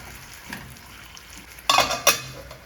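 Chopped carrot and jackfruit seeds shift in a pan under a spoon, mostly quiet, then two sharp, close bursts of scraping and clatter near the end.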